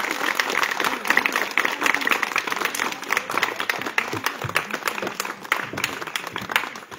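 Steady applause from a gathered audience at a poetry event honouring Niko Nikoladze, lasting throughout and fairly loud, with some voices underneath.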